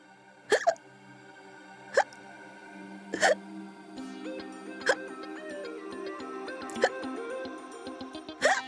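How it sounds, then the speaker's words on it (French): Repeated hiccups from a girl, short sharp gulping catches spaced every second or so, standing out over soft background music. "À chaque fois qu'une chose perturbe sa vie, elle se met à avoir le hoquet."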